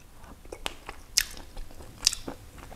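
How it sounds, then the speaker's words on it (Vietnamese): Someone eats braised fish (cá kho) close up, with a few soft crunchy bites and quiet chewing noises in a calm room and no talking. "Bây giờ mình sẽ ăn miếng cá kho thử xem"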